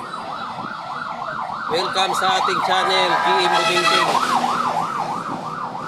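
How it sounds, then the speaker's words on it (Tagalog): Wailing sirens from fire trucks rise and fall continuously, with a second overlapping siren swelling louder midway as they pass, while someone talks over them. "Kung marinig nyo, ay maraming dumadaang bumbero sa lugar natin sa oras na ito."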